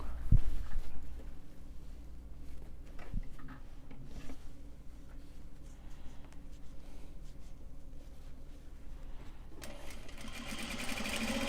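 Sewing machine running steadily while stitching Japanese fabric, a continuous close mechanical whir with fine ticking, briefly pausing near the start before running again.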